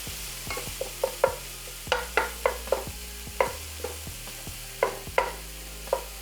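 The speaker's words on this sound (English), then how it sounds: "Just keep sauteing your ground beef until it's fully cooked." Ground beef sautés in a pan for a keto crunchwrap, steady sizzling under repeated sharp scrapes and taps of a utensil stirring the meat, close and clear with no voices.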